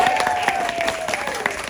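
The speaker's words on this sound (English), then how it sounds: "Give Mike a big round of applause." Lively audience applause at a live magic show in South Lake Tahoe, steady brisk clapping from a crowd, with a faint sustained tone running beneath it.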